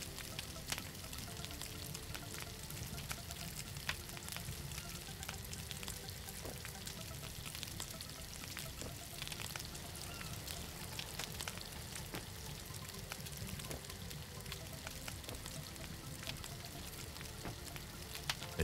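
Steaks sizzle and fry over a campfire in the SCUM survival game, a steady faint crackling hiss with scattered pops running throughout and no voices.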